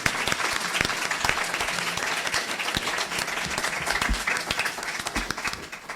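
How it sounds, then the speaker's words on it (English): A full, dense round of applause rises from an audience for the panelists at a healthy-aging event on the human-animal bond. Many clappers keep a steady roar for six seconds, with a few sharper claps standing out near the front. "A round of applause for our panelists."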